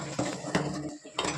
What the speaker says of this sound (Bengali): এই যে কি নাড়তে হয় যাতে তলায় না ধরে যায়।